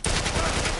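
Rapid automatic gunfire from The Last of Us Part I rattles out as one continuous, loud, close burst of closely spaced shots lasting under a second.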